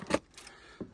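Keys jangle in a quick metallic burst near the start, then a fainter rattle, with a last small clink near the end; close and brief, no talk.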